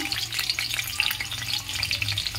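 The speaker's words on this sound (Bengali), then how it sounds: "তো প্রথমে আমি গাজর দিয়ে দেবো, গাজরগুলো ভেজে নেব।" Carrots frying in hot oil in a pan for a fish curry, with a soft, close sizzle and light crackling broken by a few stirring scrapes, steady and fairly quiet with no talking.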